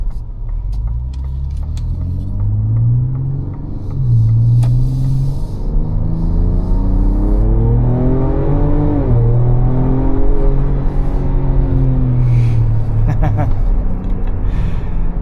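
A 2024 Ford Ranger Raptor with a Ford Performance tune accelerates hard at wide open throttle, its engine rising steadily in loud, sustained pitch sweeps over about fifteen seconds, heard from inside the cabin.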